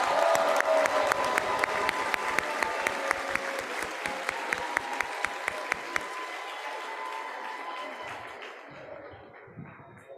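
A convention banquet crowd claps and cheers, with sharp individual claps standing out over a dense roar of applause that gradually fades toward the end.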